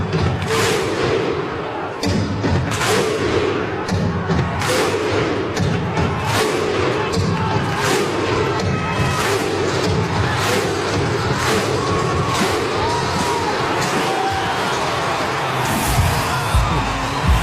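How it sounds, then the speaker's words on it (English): Stadium crowd at an NRL finals match between the Canberra Raiders and Brisbane Broncos at GIO Stadium performing the Viking clap: loud, evenly spaced booming claps and thuds roughly every second over a dense, steady roar of thousands of fans. "Here's the Viking clap."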